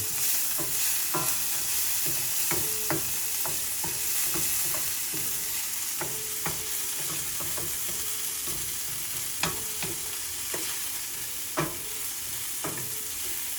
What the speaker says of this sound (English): That's showing that it's browning your onions just a little bit.